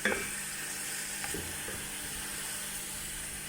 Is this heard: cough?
no